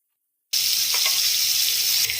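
Dry fish frying in a pan for an egg and dry fish curry, a steady loud hiss of sizzling oil that starts abruptly and continues without break, with no voices.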